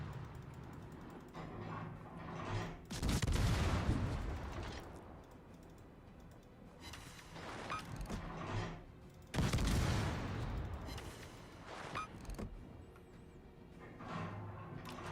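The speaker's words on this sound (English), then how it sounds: "Thank you, battleships, for shooting at him, finally." Naval guns of video-game battleships boom in repeated heavy salvos, two big rumbling blasts with smaller shots and mechanical clatter between, heard at moderate loudness amid light keyboard tapping.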